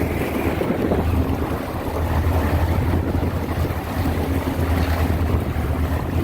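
Strong wind buffets a fishing boat out at Buoy 10, a loud, constant roar of microphone-battering gusts mixed with rushing water and waves, with no talking.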